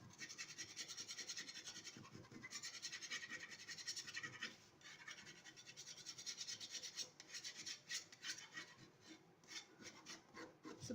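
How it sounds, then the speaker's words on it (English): A scraping tool rasps steadily across wood coated in Plaid chalk paint, distressing the finish. Continuous close scratchy strokes run throughout, with brief pauses between passes and no talking. "I'm taking the scraping tool again"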